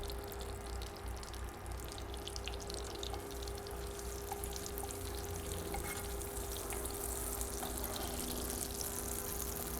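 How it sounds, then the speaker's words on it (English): Butter melting into hot oil in a Wagner cast-iron skillet, giving a steady, fairly quiet crackling sizzle with faint spits and pops throughout, no voices over it. "Melt the butter with this. Butter will be melted with the oil."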